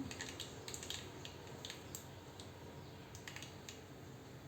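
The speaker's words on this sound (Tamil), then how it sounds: "பாருங்கள் கடுகு பொறிஞ்சிருச்சு" Mustard seeds splutter in hot oil in a kadai, giving a quiet, irregular scatter of sharp little pops and ticks over a faint background hiss, close by and without any speech.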